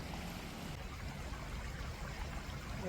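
A creek in Scarborough, Canada flows with a steady, even rushing babble, constant and close throughout with no voices.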